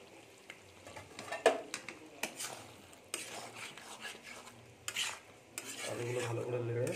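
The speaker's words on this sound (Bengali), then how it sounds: "এবারে আলুগুলো দিয়ে দেবো" Potatoes go into a frying pan of chicken kosha and are stirred with a utensil, giving clanks and scrapes against the pan over a soft, steady sizzle that grows toward the end.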